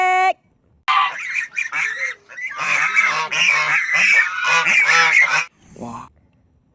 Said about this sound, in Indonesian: Wadidaw, yang ini seekor bebek.